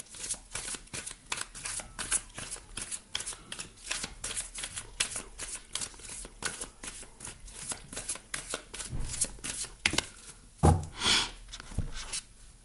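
Oracle cards being shuffled by hand: a long run of quick, crisp riffling slaps and papery flutters, close and fairly soft, repeating in irregular bursts with no talk.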